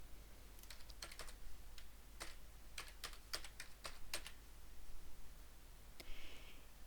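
Light clicking keystrokes on a computer keyboard as a name is typed in, irregular taps in short clusters over a steady low hum, fairly quiet and close with no talking.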